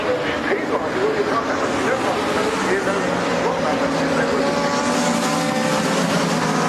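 Aprilia superbike engine at a British Superstock 1000 race at Cadwell Park, a loud continuous howl of racing engines under a commentator's voice, with no distinct passes standing out.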